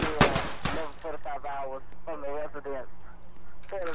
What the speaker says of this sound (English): Shots fired, 10-13.